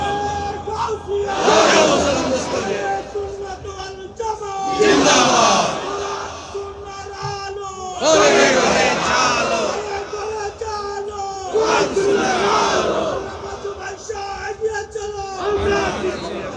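At a religious sermon gathering in Hathazari, a huge crowd shouts 'Allahu Akbar' together in four loud, rhythmic surges, each roaring collective cry answering a leader's takbir call, with brief pauses between them.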